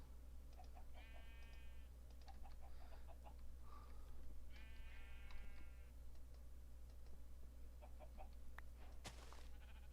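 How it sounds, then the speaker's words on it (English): Chickens cluck and squawk in a farming video game: a few short, tonal calls spaced apart, interspersed with soft clicks over a low, steady background hum. "I don't want to raise too many chickens because they're incredibly annoying."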